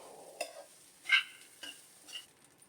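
Egg fried rice made from plain cooked rice is stirred in a pan, giving a few faint, scattered scrapes and soft sizzling strokes spaced out over a quiet background.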